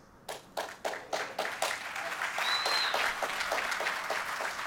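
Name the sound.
audience applause and clapping at a game announcement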